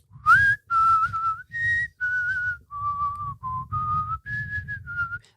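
A person whistles a simple tune in clear, separate phrases, imitating a man whistling, close and alone with faint breathy noise under each note.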